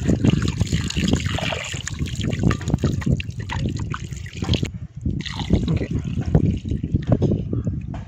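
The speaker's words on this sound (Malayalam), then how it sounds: "അപ്പോൾ ഫ്രണ്ട്സ്, നമുക്ക് ചിക്കൻ കഴുകിയിട്ട് വരാം." Tap water runs and splashes in a kitchen while raw chicken is washed for a homemade KFC-style recipe, a steady close trickle and spatter that briefly drops out midway.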